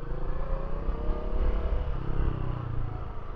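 Bajaj Dominar 400 motorcycle engine braking as the throttle closes slowly, a steady low rumbling drone with faint harmonic whine, continuous and fairly loud, easing gradually without sharp changes.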